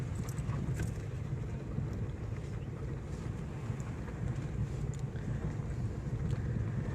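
A car fitted with a water fuel system rolls along in second gear with a steady low rumble from inside the cabin and continuous wind buffeting across the microphone.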